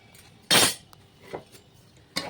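A metal spoon stirs dal in a pot after turmeric powder and mustard oil go in, giving a loud scraping clink followed by a few softer knocks and taps against the pot.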